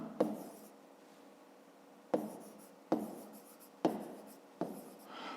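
Pen writing by hand in a notebook during a fifth-grade math exercise, heard as several separate bursts of scratchy strokes, each starting sharply and trailing off, fairly faint and close with no talking.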